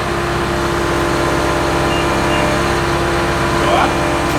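Chevy truck with a Cummins diesel conversion creeps forward, a steady loud low diesel drone with a constant whine, rising slightly near the end, with voices talking over it.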